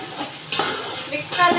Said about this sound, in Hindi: अब इसमें हम डाल देंगे चने। फिर अच्छी तरह हमने